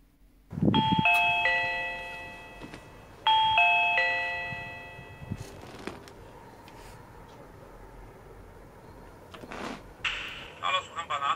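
A Reolink WiFi video doorbell sounds its chime twice, each a bright multi-tone ding-dong ringing out clearly, with quieter handling noises and a short burst of voice between and after the chimes.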